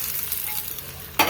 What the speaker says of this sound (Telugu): ఇప్పుడు తాలింపు చారులో వేసేసుకుందాము